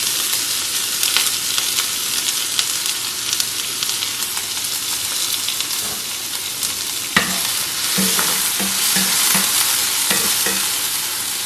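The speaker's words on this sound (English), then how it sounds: "I'm gonna cook some black beans in the same pan" Black beans with onion and garlic cooking in an oiled cast iron pan, a steady bright sizzle throughout with occasional stirring scrapes and clinks in the latter half, no talking.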